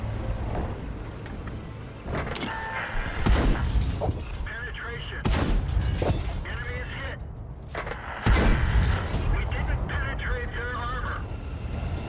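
Tank cannon shots in a video game, several heavy booming blasts spaced a few seconds apart amid rumbling battle noise, with a person talking over it.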